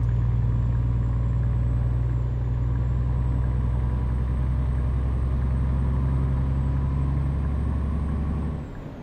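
A Scania truck in Euro Truck Simulator 2 drones steadily with a deep engine hum and a high, whistling turbo whine running throughout, loud and continuous until it drops off abruptly near the end.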